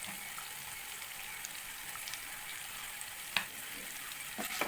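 Ingredients for temple-style Navaratri prasadam, with turmeric just added, sizzle steadily in a frying pan while being stirred, a soft continuous hiss broken by an occasional sharp utensil clink.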